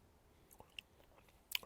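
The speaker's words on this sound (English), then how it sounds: "Take a bit of chewing." An Orange Starburst chewy sweet is chewed close up, giving a few faint soft squishes and a brief crisp snap near the end, with no talk.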